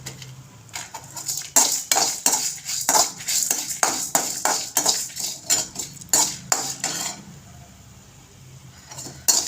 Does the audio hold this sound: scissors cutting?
no